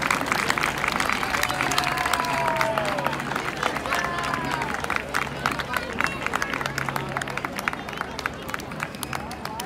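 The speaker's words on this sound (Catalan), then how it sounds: "Em rebem amb un fort aplaudiment." Dense applause from a large crowd at the Barceloneta festa major in Barcelona, continuous and loud, with a hubbub of voices mixed in throughout.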